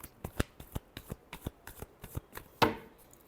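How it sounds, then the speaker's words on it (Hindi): A deck of tarot cards is shuffled by hand in a run of quick, crisp riffles and taps, close and alone, ending with one sharper flurry. "Last shuffle."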